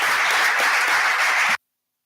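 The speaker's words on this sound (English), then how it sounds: "and an applause, please, for all of them" Audience applauding a round-table panel, dense even clapping from many people at close, fairly loud level, cut off abruptly after about a second and a half, then silence.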